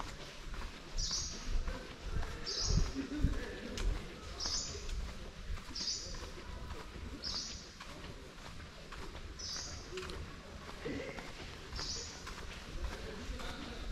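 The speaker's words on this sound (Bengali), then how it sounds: "কিছু পাখির শব্দ শুনছেন।" Birds calling along a trail deep inside the Sundarbans forest: short, fairly faint chirps repeat at a steady pace of roughly one per second over a low, rustling background.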